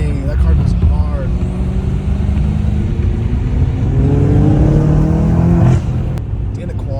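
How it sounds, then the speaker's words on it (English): A BMW M5 Competition with catless downpipes accelerates hard, its engine revving up through rising pitch sweeps, loud and close over road noise, then easing off. "Dang, that car goes hard."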